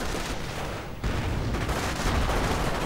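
Gunfire in a WWII strategy video game featuring a German sniper, a dense continuous roar of shots and battle noise, loud and sustained with a sharp burst near the one-second mark.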